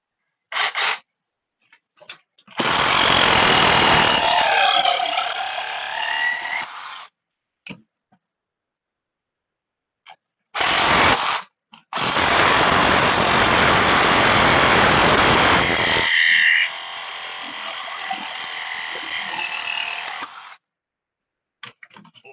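A reciprocating saw runs on a porch project in loud, buzzing bursts, several seconds each, with a short start-up blip before the main runs and quiet gaps between them.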